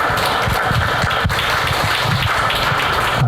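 A seminar audience at Bongeunsa temple, gathered for a Korea-Japan suicide prevention exchange, breaks into dense, sustained applause. The many hands clap loudly and evenly to welcome a presenter.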